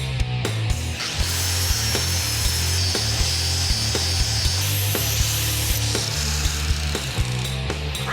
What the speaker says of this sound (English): I'm cutting a notch in the original rail for the new one to slide into